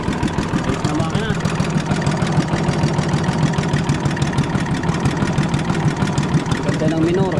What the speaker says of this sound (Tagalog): Ayos na makina.